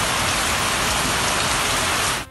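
Heavy, steady rainfall pours down as a dense, loud, continuous hiss with no voices, cutting off abruptly at the end.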